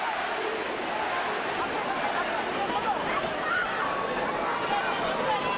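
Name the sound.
sold-out boxing crowd in Las Vegas chanting for Manny Pacquiao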